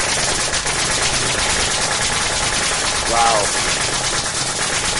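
A pneumatic nail gun fires nails in quick repeated bursts, loud and close, with an air-driven rattle; a voice briefly exclaims over it.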